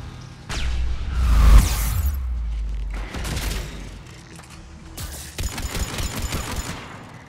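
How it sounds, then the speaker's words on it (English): Grenade explosions and gunfire in Mass Effect 3 combat against Geth: a heavy boom with a whoosh, then rattling bursts of shots and further blasts, loud and dense throughout. "I love the AoE on these grenades."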